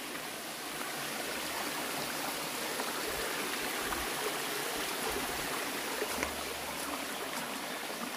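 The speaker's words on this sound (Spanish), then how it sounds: "Zumba el agua en estas quebraditas." Water rushes steadily through small streams after a hurricane, forming a constant broadband wash at moderate distance with no voices.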